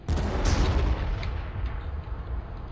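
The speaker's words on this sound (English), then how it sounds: "I see you too have artillery." Enemy artillery fire in the strategy game Armageddon, a deep booming blast with a rumbling low tail that slowly fades over a few seconds.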